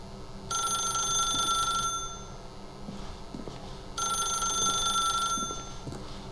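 A telephone in The Stanley Parable rings with two bright, electronic bursts of about a second and a half each, separated by a pause. Low game ambience and faint clicks fill the gap.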